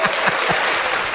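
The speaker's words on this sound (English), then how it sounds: "Philly, that was applause" A live audience claps briefly, steady dense applause heard close and without pauses.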